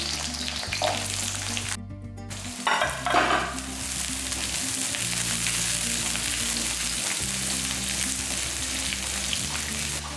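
Ginger, garlic and shallots sauté in hot oil for curry leaf thokku: a dense, continuous sizzle with periodic stirring scrapes and a brief sharp crackling burst early on.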